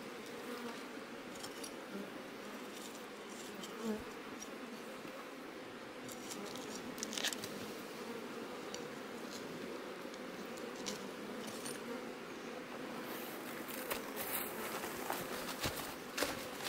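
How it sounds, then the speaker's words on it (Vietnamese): Honeybees buzzing steadily around a hive set in a mountain cave, a continuous faint drone with soft scattered knocks and no voices. "Ong đã mất khá nhiều quân ở cái thời điểm mà mùa rét."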